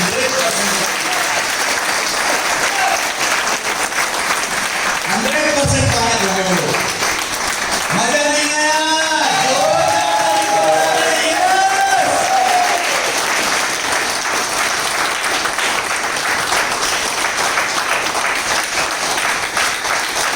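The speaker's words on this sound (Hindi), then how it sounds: "जो दोनों हाथ उठा के अपने लिए एक बार जोरदार ताली बजा देंगे" Audience at a motivational Hindi talk breaks into loud applause and cheering after being asked to raise both hands and clap, a dense sustained crowd roar running the whole stretch, with a voice speaking over it.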